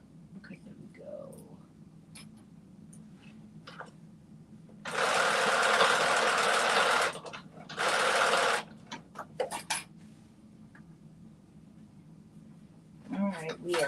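Two loud bursts of a sewing machine stitching a piece on, the first about two seconds long and the second shorter, separated by a pause, with quiet handling noises around them.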